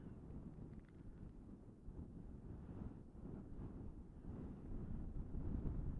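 Strong wind buffets the microphone in low, rumbling gusts that swell and ease unevenly and grow louder toward the end, out in the open at Buttertubs Pass.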